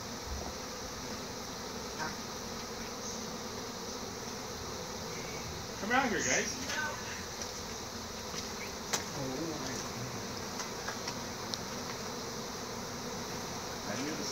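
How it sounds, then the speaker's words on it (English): A dense, steady buzzing of a bee swarm arriving fills the air outdoors, swelling briefly midway, with a man calling out faintly once. "the whole area is swarming with bees"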